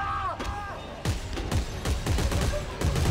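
Gunfire in the video game Dead Space 3 during co-op play, a dense run of sharp repeated shots and impacts under game noise, with voices talking over parts of it.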